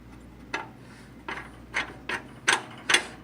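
A tensioner screw on a ShopSmith bandsaw is turned in six short ratcheting bursts, each a crisp mechanical click-rasp spaced about half a second apart, close and fairly quiet, with no talking.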